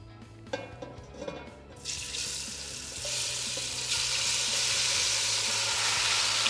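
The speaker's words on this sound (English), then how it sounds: "in with the chicken. You're going to get lots of sizzles here." Chicken pieces drop into hot oil in a pan for Vietnamese caramelised chicken, a few clatters giving way to a loud, steady sizzle that builds and holds, close up with no talking.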